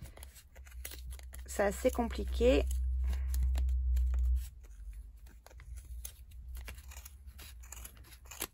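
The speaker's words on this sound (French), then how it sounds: "Il faut vraiment des ciseaux qui coupent bien, puisque avec l'épaisseur du fil" Sharp scissors snip through thick yarn wound around a pompom maker, a few close crunchy cuts over a low steady hum, with a short stretch of French speech early on.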